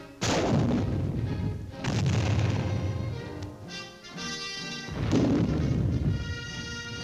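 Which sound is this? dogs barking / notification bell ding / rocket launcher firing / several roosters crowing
rocket launcher firing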